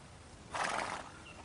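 A horse neighs once, a clear whinny of about half a second that rises from a quiet background, followed by a faint trailing tail.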